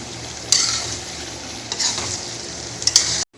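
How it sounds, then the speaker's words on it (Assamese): Potatoes fry in duck fat, a bright steady sizzle broken by three stirring scrapes, close-up and alone, cutting off abruptly at the end. "এইখিনি অলপ ভাজি লোৱা হৈ গ'ল আৰু আলুখিনিত হাঁহৰ তেলটো সোমোৱালৈকে"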